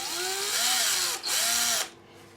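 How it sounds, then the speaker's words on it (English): A power drill bores a pilot hole through a Lego piece, a close, loud high whine with the motor speed rising and dipping. It pauses briefly midway and then winds down. "So I'm just going to run a pilot hole through first."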